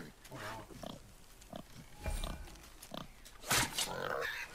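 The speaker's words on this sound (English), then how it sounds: "The wild boar's hide is thick." A wild boar grunts and snorts repeatedly in the video game God of War, with close, rough, low grunts in a loose rhythm and game dialogue running underneath.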